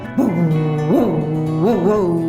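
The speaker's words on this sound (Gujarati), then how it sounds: "શિકારી કૂતરા દોડતા આવતા દેખાયા" A hunting dog gives three drawn-out, whining yelps in close succession, rising then falling in pitch, loud and near with no other sounds.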